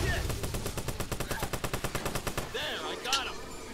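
Rapid automatic gunfire in a Watch Dogs multiplayer match, a steady burst of evenly spaced shots for about two and a half seconds, followed by quieter game effects and a brief sharp sound.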